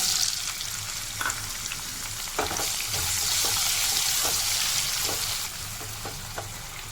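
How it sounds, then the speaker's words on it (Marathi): Cashews and chopped green chillies frying in a pan give a steady bright sizzle with occasional stirring clicks and scrapes, close and continuous. "त्याच्यामध्ये काजू थोडे परतून घ्यायचे"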